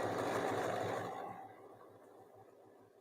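A sewing machine runs steadily as it test-stitches a scrap of fabric, its motor hum loud and even for about a second before fading to a quieter, softer whir.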